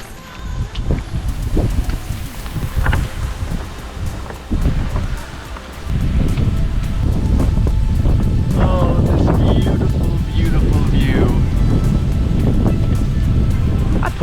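Cold, gusting wind blows at the coast in East Bali, buffeting the microphone with loud rumbling bursts that build and stay strong, with waves and surf underneath and a person talking intermittently.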